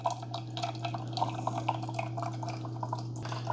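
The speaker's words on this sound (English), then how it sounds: "And there's how your water should come out." Water from a Keurig K-Slim coffee maker drips and trickles during a freshwater rinse, a fast run of small plinks above a steady low machine hum, close and fairly quiet, with no talk.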